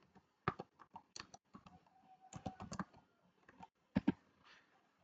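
Keys clatter on a computer keyboard while a search is typed into YouTube, in uneven bursts of clicks with short pauses and a couple of heavier taps near the end, close and fairly quiet.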